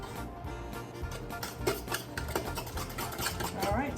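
A spoon stirs a lasagna cheese mixture with mozzarella in a bowl, giving close, moderately loud scraping and clinking against the bowl in an irregular rhythm.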